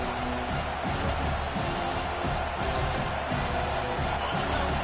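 Stadium crowd at a Utah vs Miami college football game, a steady loud roar of many voices swelling on a third-down defensive stand, with broadband noise filling the whole clip and no clear single voice.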